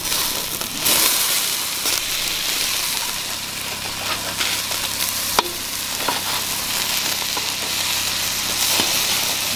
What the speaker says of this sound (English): That sizzle, baby. That sizzle.